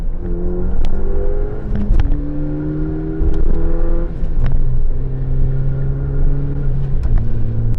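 A car with a manual gearbox and shift extender accelerates hard to pass another vehicle, its engine note climbing steadily through gear changes, loud and close from inside the cabin.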